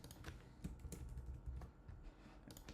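Quiet, close typing on a computer keyboard, with a steady stream of soft key clicks and a few sharper taps, and no voices.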